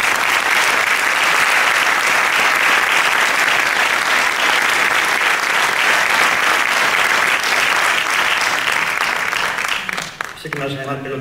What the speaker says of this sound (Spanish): os pido que hagáis extensivo con vuestros aplausos a Miguel Ángel Revilla